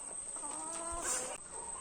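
Native country chickens in a low-cost farm coop, soft clucking and murmuring from a small flock under a steady high background hum, fairly close and unhurried.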